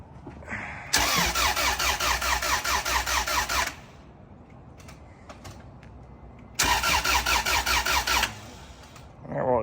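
A car engine cranks with a rapid rhythmic starter whir in two loud bursts, the first about three seconds long and the second shorter after a pause, without catching; the clip is in a workshop with no spoken words.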